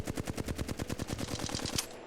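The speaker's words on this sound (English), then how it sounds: "I shoot my gun at this wall." Rapid automatic gunfire in a video game as a gun is shot at a wall, a steady burst of roughly a dozen evenly spaced loud shots lasting about two seconds, with no voices.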